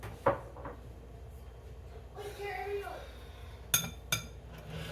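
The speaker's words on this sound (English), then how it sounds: "I'm going to put this in the sink because it is glass." Glass baking dish set into a kitchen sink during peach cobbler prep: faint clinks and knocks with a short scraping slide, then two sharp glassy clanks near the end, over quiet room noise.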